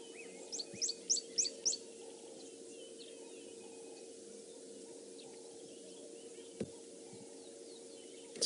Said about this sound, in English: A lot of doves, also red-chested cuckoo, rattling cisticulas.